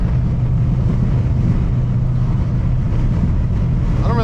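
A cammed Jeep SRT cruises along with a continuous low engine drone and rumble mixed with wind noise, loud and close, with no talking.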